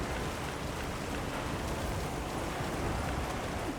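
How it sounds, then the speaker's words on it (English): Steady, heavy rain in the video game Monster Hunter Wilds hisses and patters without a break, a dense wash of drops filling the whole scene. "The rain's really coming down."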